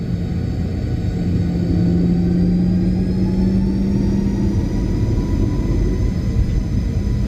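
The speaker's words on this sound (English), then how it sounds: "runway 27 clear for takeoff" Steady low engine rumble with a rising whine of jet engines spooling up during a Boeing 737 takeoff roll in a flight simulator game, loud and continuous with no voices.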